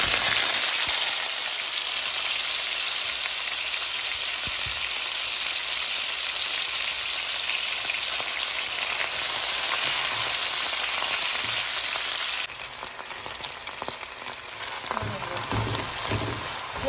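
Chopped onion and meat sizzle in hot oil in a pan, a loud, steady hiss of frying that softens a little partway through and then carries on.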